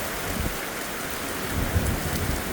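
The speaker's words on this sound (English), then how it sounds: "More thunder." Thunder rolls during a heavy rainstorm, a low rumble swelling midway beneath the steady hiss of rain pouring onto surfaces nearby.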